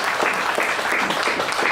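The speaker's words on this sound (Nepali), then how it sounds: "ताली बजाइदिनु होला।" An audience applauds at a launch event for the Puryaideu app in Nepal, a short, dense burst of clapping from many hands.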